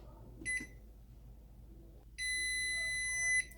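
A kitchen timer beeps while a pot of rice rests. One short beep comes first, then a long, steady electronic tone holds for over a second, close by over low room hum.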